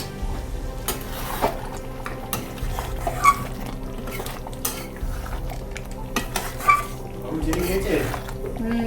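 Mutton ghee roast being cooked at home, with repeated scraping and stirring of a utensil in a metal pot and faint clinks, steady and close, under a low background hum.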